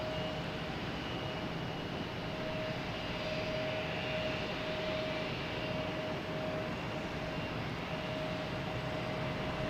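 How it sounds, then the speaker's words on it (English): An SAS jet airliner taking off from Boston Logan Airport, bound for Copenhagen, gives a steady, broad roar of engine noise with a faint sustained whine, held at an even level throughout with no voices. "I got SAS heading out there, and the next takeoff heading to Copenhagen."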